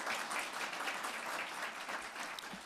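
Audience applause after a ministerial presentation at a Commonwealth business event, steady dense clapping from a crowd heard alone throughout, moderately distant and even in level.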